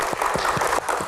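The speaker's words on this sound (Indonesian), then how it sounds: "Tepuk tangan untuk Profesor Nasaruddin." Brief burst of audience applause at an Indonesian talk and Q&A event, a short muffled patter of claps at moderate level.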